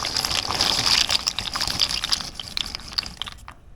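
Dry pasta goes into a pot of sea-salted water, giving a bright, continuous watery rush and splashing with scattered drips, close and fairly loud, tapering off at the end.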